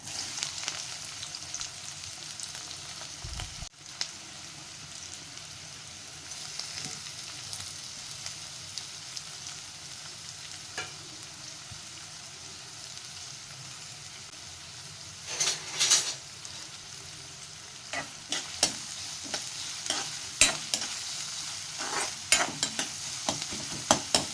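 Steady sizzling of chopped onions frying in hot oil, with occasional stirring scrapes and crackles growing busier toward the end.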